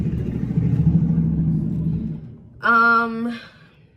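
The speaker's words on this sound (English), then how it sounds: "loud truck" A loud truck passes outside, a low rumbling engine swelling and fading, followed by a brief tonal horn-like blare near the end.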